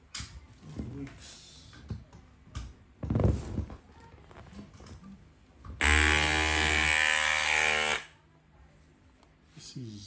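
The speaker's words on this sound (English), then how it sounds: "I'm going to show you how we use also this big machine" A big electric wig and dreadlock making machine switches on, giving a loud, steady, harmonic mechanical buzz that lasts about two seconds before stopping. Scattered handling noises and voices come before and after it.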